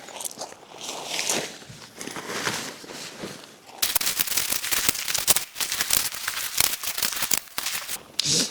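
A camping tent (Weekend Trip Model O) being folded up on crushed-stone ground, giving close crinkly fabric rustles and crunches that grow louder and busier partway through, with no talking.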